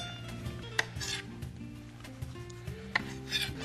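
A knife chopping tomato on a board, a few distinct cuts and scrapes at an uneven pace over faint low kitchen background hum.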